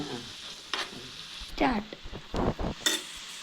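A spoon stirs a thickening, bubbling mixture in a hot pan, scraping and sizzling in short irregular strokes with a few clinks against the metal.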